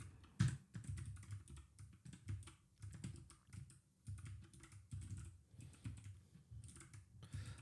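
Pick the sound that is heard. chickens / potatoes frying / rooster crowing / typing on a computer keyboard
typing on a computer keyboard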